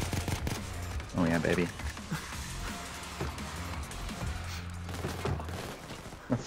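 Bursts of automatic gunfire and shots ring out during a Payday 2 heist in the video game, mixed with players shouting excitedly over the shooting.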